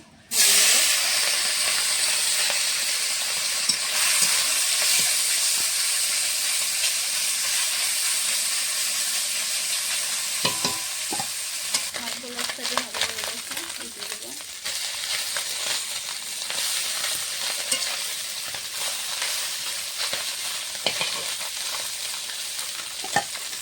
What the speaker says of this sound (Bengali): কড়াইতে মাছ ভাজার জন্য সর্ষের তেল দিয়ে দিয়েছি